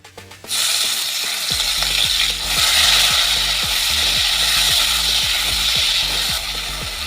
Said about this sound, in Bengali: এবার আমি কিছু চিংড়ি মাছ হালকা ভেজে নেব